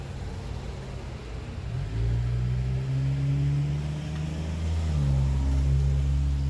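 Cars speed past on a quiet road, a continuous rising engine rumble as a vehicle approaches and roars by close at hand, with no talking.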